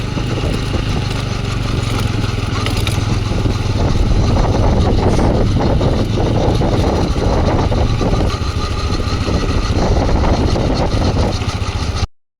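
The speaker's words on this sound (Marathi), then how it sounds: "ट्रॅक्टर रिव्हर्स गिअरमध्ये चालता." A tractor engine runs in reverse gear on a rural road, making a loud, continuous low rumble with a steady throb that holds for the whole stretch before cutting off abruptly at the end.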